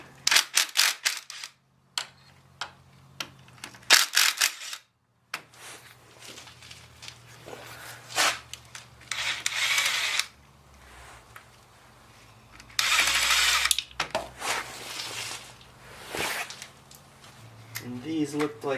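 A 10 millimeter bolt being removed from a bracket on a Honda ATV during an ignition coil replacement gives close, bursty ratcheting and clicking from a hand tool, in short separated runs, with someone talking between them.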